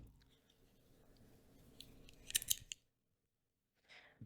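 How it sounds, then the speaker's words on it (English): Scissors snip through yarn during a crochet project, a few close, quiet clicking cuts in quick succession followed by silence. "Now what you're going to do is just cut the yarn, maybe, you know, 10 inches or so."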